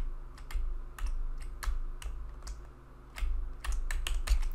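Arrow keys on a computer keyboard are tapped in an irregular run of sharp, close clicks, some single and some in quick pairs, over a low background hum with no speech.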